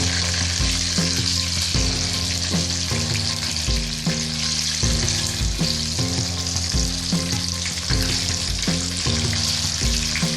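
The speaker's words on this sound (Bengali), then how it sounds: "মাছগুলো মোটামুটি এর মধ্যে একটা পিক ভাজা হয়ে গেছে" Hilsa fish pieces frying in hot oil in a pan, a loud continuous sizzle with crackling bursts and occasional stirring or turning sounds, close up with no talking.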